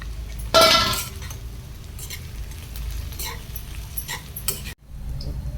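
Washed puffed rice added to a pan for uggani upma, with a sharp clattering pour near the start, followed by soft scraping, light clinks and stirring in a quiet kitchen.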